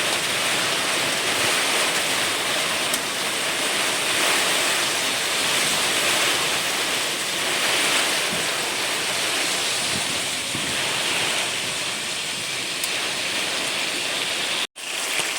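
Strong storm wind roars steadily outdoors beside a gas flame where fish is being fried, a dense, continuous broadband rush with no pauses that cuts off abruptly near the end.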